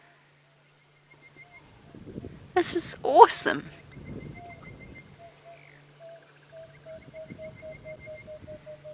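A southern boubou calls out on an African safari, its faint whistled notes drifting in from a distance while a person speaks briefly close by.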